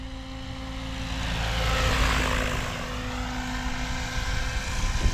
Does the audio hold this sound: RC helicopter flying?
yes